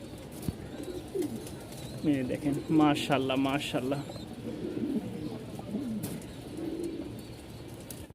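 A pair of full black Mundian pigeons coo softly in low, throaty bursts while someone talks over them nearby.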